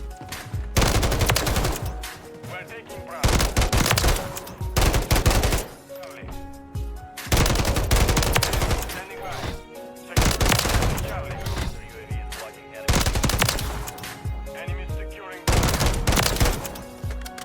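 SVA 545 rifle gunfire in the multiplayer game MW3 on the Skid Row map comes in several loud, rapid automatic bursts separated by short pauses, with a player talking between them.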